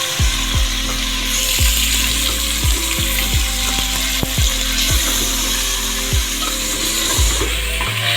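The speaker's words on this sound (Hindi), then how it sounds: "गोश्त आप देख सकते हैं हमारा बहुत अच्छे से फ्राई हो गया, बहुत ज़ोर शोर के साथ ये फ्राई हो रहा है। आवाज़ से आपको पता चल रहा होगा।" Mutton pieces fry loudly in a pan for an aloo gosht curry, giving a dense, constant sizzle with occasional scraping stirs of a spoon against the pan, close-up and without talking.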